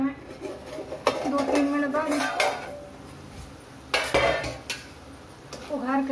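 A lid goes onto a pot of softening tomatoes, with a few sharp metallic clanks and scrapes of cookware close by, and a voice talking between them.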